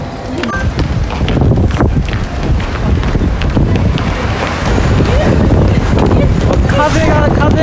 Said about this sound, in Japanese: 風がすごい。